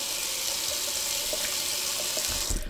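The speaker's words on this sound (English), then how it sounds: "Some people like a warm water rinse after their shave. I like it cold." Cold water runs steadily from a bathroom tap for a rinse after a wet shave, a close, even rushing splash with no talking, ending in a few louder spatters.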